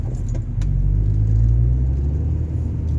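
A car engine in sport mode revs high with a loud, deep rumble that swells and holds, the close, steady roar filling the whole moment with no talk.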